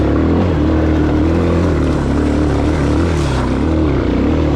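A Suzuki DR650 motorcycle engine revs hard in first gear on a rocky singletrack trail, a loud steady drone with shifting harmonics that rises and wavers throughout, close and unbroken.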